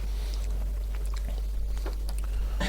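Someone chews food close to the microphone, producing soft, irregular wet clicks and bites over a low steady hum.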